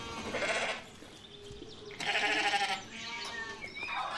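Sheep being drenched on an Edwardian-era farm bleat twice in quick succession, fairly near, over a soft outdoor background with a faint voice.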